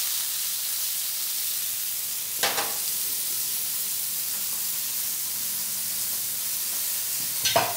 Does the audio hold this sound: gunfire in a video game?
no